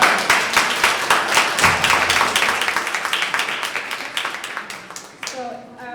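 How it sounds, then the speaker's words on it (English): Audience at an annual Cesar Chavez community event giving a round of applause, dense clapping close and loud that gradually thins and fades, ending with a brief voice at the close. "Let's give everyone, all of us, a big round of applause."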